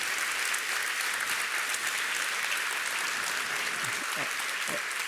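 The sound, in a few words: audience applause at award ceremony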